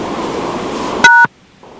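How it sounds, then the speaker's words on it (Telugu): A loud emergency alert siren on a mobile phone blares for a fraction of a second, cutting through steady background noise and then stopping abruptly. "అందరి సెల్ ఫోన్ లో సైరన్ మాదిరిగా ఒక మోత మోగడంతో"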